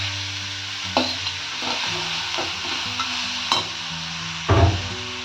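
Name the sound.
bottle gourd added to onions, frying in a pan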